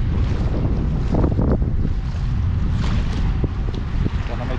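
Strong wind blows on an island by the sea, a steady, loud roar buffeting the microphone throughout, with a few faint voices underneath.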